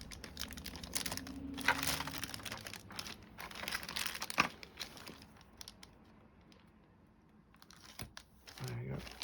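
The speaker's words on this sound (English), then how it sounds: "Give me a bit of room to open this section of the packaging up." Crinkly plastic packaging of Robocop model parts, with metal pieces, a spring and bagged screws, rustles and crunches close up in bursts, with quieter handling toward the end.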